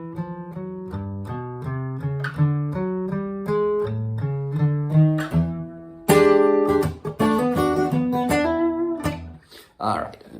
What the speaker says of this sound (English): that's this cool chromatic line that they go into as like a turnaround